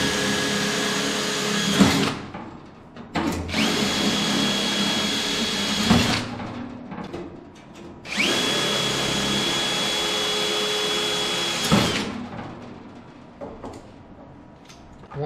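A power drill bores holes through the floor of a beach cart in separate bursts, each a steady high whine lasting a few seconds, with short pauses and clicks between them, close and clear, with no voices.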